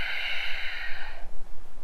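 A person doing an at-home core workout breathes in through the nose and out through the mouth, with one long airy breath fading out after about a second, close and audible.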